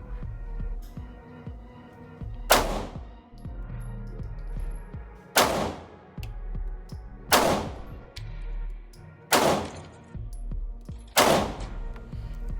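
Glock pistol shots at a shooting range, five sharp loud reports fired singly at slow, roughly even intervals, each followed by a short ringing decay, with low background rumble between.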